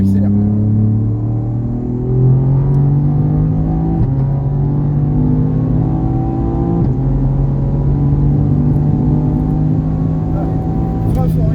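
Race car at the Mireval circuit accelerating hard out of a corner, its engine note climbing in steady harmonic sweeps with brief dips at gear shifts, loud and close throughout, as from an onboard position, with a coach's voice talking over it.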